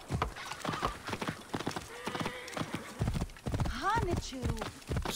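Hooves clip-clop in a steady riding rhythm from a horse in the video game Assassin's Creed Origins, with a horse whinnying partway through and someone talking over the gait.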